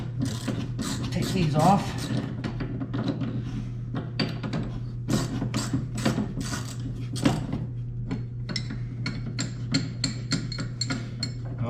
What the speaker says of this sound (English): a ratchet and then a wrench for the other side